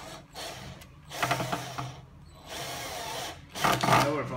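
A power tool, likely an impact driver or drill, runs in three bursts while tightening the lower bolt on a side flat bearing of a D6 machine, loud and close with ratcheting mechanical texture.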